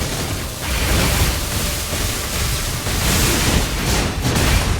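A boss's attack explodes during the Laxasia fight in Lies of P, a dense, roaring burst of noise that rumbles steadily for several seconds with no voices over it.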